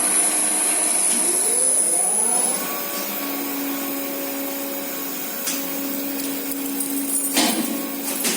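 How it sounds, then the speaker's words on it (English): Original electric motor running in a tower block machine room, a steady mechanical hum with a rising whine as it spins up, then a sustained drone with occasional clunks and a sharp click near the end. "Ooh, original motor."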